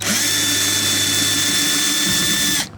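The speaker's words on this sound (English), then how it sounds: "you could use like a drill that has a Phillips screwdriver in it, and I chose a drill" A power drill driving a Phillips screw while removing a Honda Accord car speaker whirs steadily at close range for a couple of seconds, then winds down and stops abruptly.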